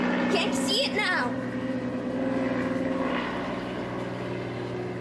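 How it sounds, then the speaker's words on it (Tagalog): A helicopter flying overhead gives a steady, moderately loud engine and rotor drone outdoors among trees, with people talking over it. "There's a helicopter."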